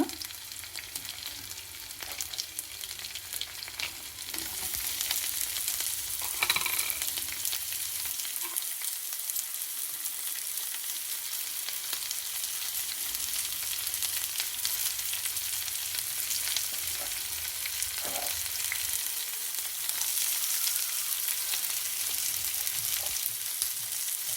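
Steady, loud sizzling of tempering spices (mustard seeds, cumin, dried red chillies, urad dal, onion) frying in hot oil, a continuous crackling hiss throughout with no voices.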